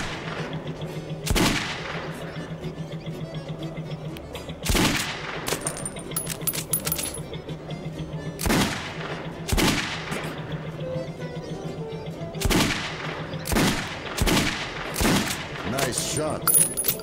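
Gunshots in the Metro video game ring out as sharp, separate cracks every second or two, some in quick doubles, over a low hum. Small metallic clinks fall between the shots.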